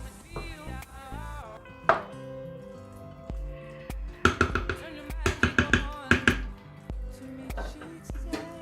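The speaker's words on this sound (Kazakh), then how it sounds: "күріштің ортасына су баратындай етіп, ағаш қасықпен тескілеп шығамын" A wooden spoon pokes holes into rice cooking in a pot for Kazakh palau, producing a series of sharp, close taps and thuds in quick clusters over faint background music.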